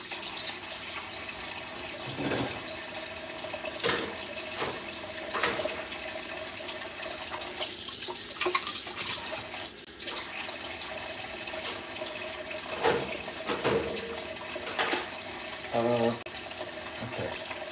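Tap water runs into a sink in a Tex-Mex restaurant kitchen, a steady splashing wash broken by repeated clinks and knocks of dishes and utensils, with occasional voices nearby.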